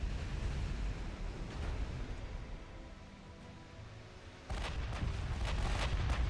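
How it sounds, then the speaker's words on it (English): A battleship gun salvo in Ultimate Admiral Dreadnoughts, heard as a loud booming burst of heavy cannon fire with a rumbling tail over a continuous rolling battle din. "More than one salvo, would you look at that?"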